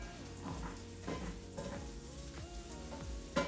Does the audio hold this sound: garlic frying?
yes